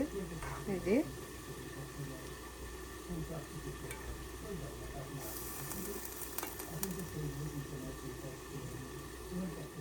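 Crispy chicken balls fry in hot oil with a steady, soft sizzle close by, broken by occasional stirring and turning of the pieces in the pan, while a voice talks over it.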